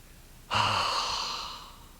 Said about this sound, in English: Now deep breath in through the nose and a big open mouth exhale.